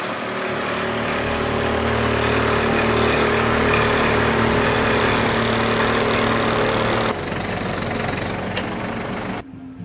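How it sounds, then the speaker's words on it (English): Tractor driving around collecting on a farm during maple syrup season, a loud, steady engine drone with a constant hum that drops slightly partway through before cutting off, with no voices heard. "I believe there's Nathan on the tractor, and he's going around and collecting this up."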